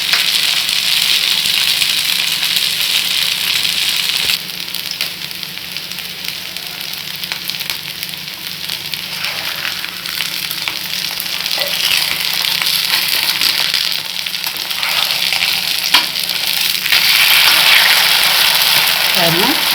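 Vegetables fry in plenty of hot oil for uttapam, giving a loud, continuous close sizzle that dips briefly and swells again over about twenty seconds.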